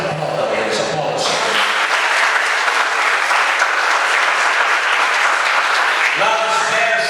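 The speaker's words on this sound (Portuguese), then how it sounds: "Aplauda Deus, aplauda." A church congregation claps in a loud, dense burst that fills the hall for several seconds. A speaker's voice briefly cuts in before and after the applause.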